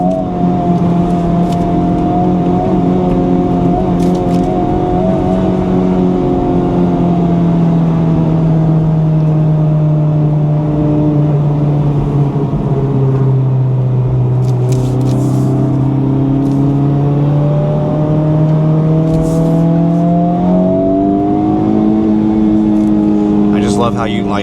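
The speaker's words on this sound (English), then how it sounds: "It loves revving out." A stock Honda Civic Type R FL5 engine winds up through the revs, rising and falling steadily in a continuous loud drone with clear harmonic pitch sweeps, heard from inside the car.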